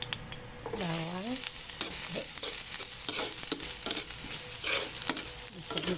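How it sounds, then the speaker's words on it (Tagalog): Garlic sizzles steadily in hot oil in a pan while being sautéed for sinigang na tilapia, with stirring scrapes and clicks and a brief voice near the start. "Para igigisa ko na lang. Oil."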